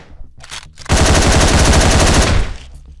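Shotgun blasts from the top-down action game Hotline Miami: a loud, dense burst of gunfire dominates about a second and a half, flanked by quieter rapid clicks and game sounds before and after.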